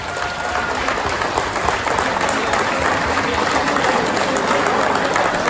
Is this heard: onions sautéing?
no